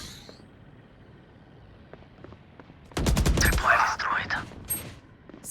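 Gunfire in a video game, a sudden burst of rapid automatic shots followed by scattered further shots, loud and close after a quiet stretch.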